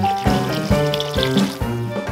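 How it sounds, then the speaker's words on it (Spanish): Broth poured into a pot of Ukrainian borscht with tomatoes, a steady close liquid rush lasting a couple of seconds with no talking. "Añadimos el caldo."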